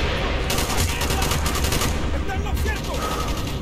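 Sustained automatic gunfire from Call of Duty Black Ops, several weapons firing in overlapping rapid bursts, loud and close throughout with a voice faintly mixed in.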